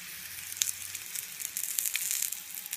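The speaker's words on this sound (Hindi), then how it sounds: "अब हम रोटी को अच्छी तरह से हाथ में लेकर फिर इसको सेकेंगे।" Maize flour roti cooking on a hot tava griddle gives a steady, close sizzle with soft crackles and a few sharper pops, without talk.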